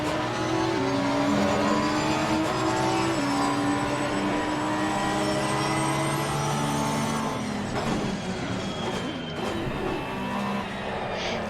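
An Audi R8 race car engine roars in Assetto Corsa Competizione, loud and sustained with rising and falling revs through gear changes, a steady close drone throughout.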